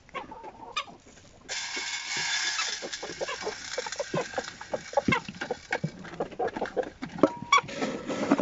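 Chickens cluck in quick, irregular bursts close by on a farm, with a large rooster's call mixed in over a light outdoor background.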